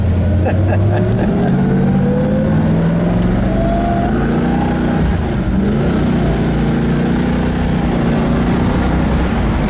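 A 1971 Ford Mustang convertible with a 429 Cobra Jet V8 and four-speed manual pulls away through a small town, its loud engine rising and falling through gear changes with rumbling exhaust, while people talk over it.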